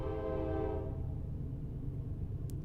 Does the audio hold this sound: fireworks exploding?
no